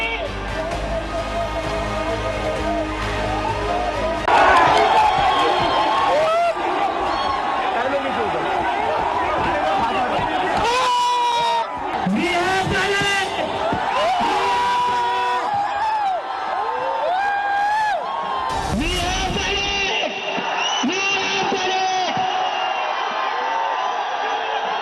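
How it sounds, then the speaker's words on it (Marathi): A crowd of students and Cockroach Janata Party supporters celebrating at Jantar Mantar in Delhi, a dense roar of cheering, whoops and shouting voices that continues throughout, with chanting and individual shouts rising above the mass of noise. "कॉकरोच जनता पार्टी आणि विद्यार्थ्यांनी जंतर मंतरवर जल्लोष केलाय"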